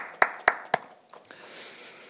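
At a Korean divine healing church meeting, three sharp, evenly spaced hand claps ring out close by, followed by a few fainter taps and a low murmur.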